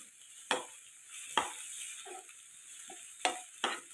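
Goat brain fry being stirred in a pan with curry leaves, with a few sharp scraping strokes of the spoon against the metal over a steady sizzle of frying, plus a couple of soft clinks in between.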